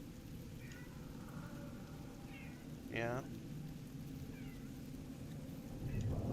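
A pet cat gives a few meows indoors, one clear rising call in the middle and fainter ones around it, over a steady background hiss as someone speaks briefly.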